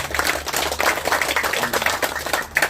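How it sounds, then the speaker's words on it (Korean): Audience applause at the opening and signboard unveiling ceremony of a research institute, a steady run of many hands clapping at moderate loudness with no voices over it. "다시 한번 감사의 박수 한번 드립니다."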